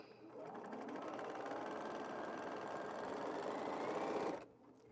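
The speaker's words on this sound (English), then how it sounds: "I'm just gonna sew on this for a little bit" A sewing machine stitches a quilt in a fast, steady mechanical whir that runs close and loud for about four seconds, then stops abruptly.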